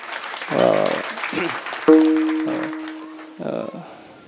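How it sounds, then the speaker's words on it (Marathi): An audience at a kirtan applauds the singers, a broad patter of clapping that runs under voices and a sustained ringing tone. "एकदा गायकांसाठी जोरदार टाळ्या होऊ दे महाराज."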